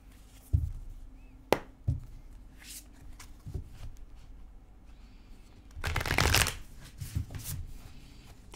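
A large, oversized tarot deck is shuffled by hand in a few short riffling bursts with pauses between them, ending in a longer, busier flurry of card noise near the end, close and fairly quiet.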